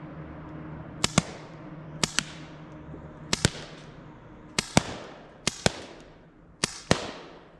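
Umarex Avera air pistol fired at targets, sharp snapping shots coming in close pairs, each a crack followed quickly by the pellet's impact, spaced about a second apart with quiet between.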